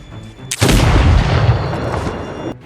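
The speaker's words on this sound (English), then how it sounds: "Fitz fires a shot striking the body of Henry squarely." Rifle gunshot from the film The Revenant, a single loud blast followed by a long booming roll that slowly fades, up close and without any talk.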